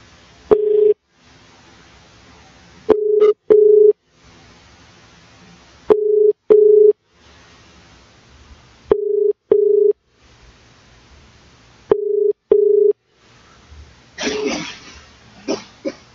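A telephone line sounds repeatedly while a call is placed again: clear electronic tone bursts, each a short double pulse, recur about every three seconds. A brief rustle and a cough-like noise come near the end, with no talk.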